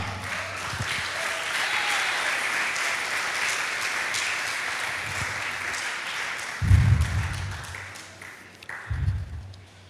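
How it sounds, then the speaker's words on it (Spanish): A church congregation breaks into applause, a broad steady clapping that fills the room for most of the stretch, with a couple of louder low thumps near the end as the clapping tapers off. "Dale un aplauso al Señor"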